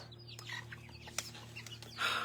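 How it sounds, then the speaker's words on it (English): Backyard chickens cluck softly in a few short, scattered calls over a faint steady hum, quiet and fairly distant, with no talking. "I'm watching chickens. Today is their first day in the backyard, all by themselves."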